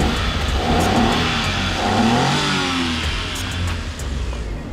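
A mini van engine runs and revs close by, a loud steady mid-pitched drone that swells and eases as the throttle rises and falls, heard alone without speech.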